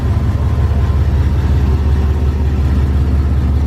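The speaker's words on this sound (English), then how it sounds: "Gotta hear the sound of the truck." A 1966 Ford F250 truck's engine idles with a steady, loud, low rumble and an even, throbbing pulse throughout, close by and with no other sounds.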